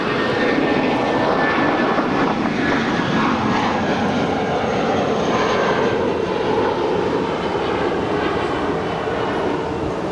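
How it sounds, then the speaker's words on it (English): An American Airlines Airbus A320 taking off at Los Angeles International Airport roars loudly and steadily for ten seconds, a dense jet-engine rumble with a whining tone, close and continuous with no voices. "that was American Airlines Flight 1416 heading to Phoenix, Arizona. It was an A320"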